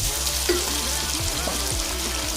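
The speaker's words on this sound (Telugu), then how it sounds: "ఇది కొద్దిసేపు ఫ్రై అవ్వాలి" Tomatoes frying in a pan for a home-made tomato bath, giving a steady, close sizzle that runs unbroken throughout with faint stirring scrapes and no talk.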